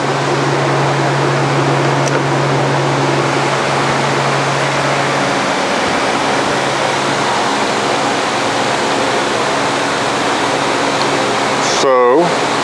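A bandsaw cuts through bathtub shower material, giving a loud, steady broadband whir with a faint hum that fades after a few seconds, a brief rattle near the end, and a voice talking over it.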